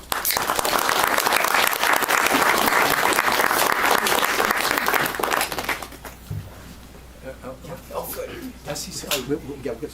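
An audience claps warmly to welcome a speaker at a talk on faith and climate science, with dense, loud applause for several seconds before it fades and a voice begins talking.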